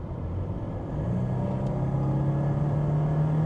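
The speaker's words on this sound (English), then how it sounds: "let's see if it accelerates well" A high-mileage Mercedes with around 500,000 miles pulls away, its engine note rising from a low rumble into a steady, building hum as it accelerates, heard from inside the car.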